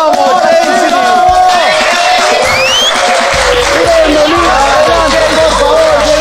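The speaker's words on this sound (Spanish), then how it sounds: "Aplauso para JC Torres" A studio audience on a television variety show applauds and cheers to welcome guest JC Torres, loud and continuous, with excited voices and music layered over the crowd noise.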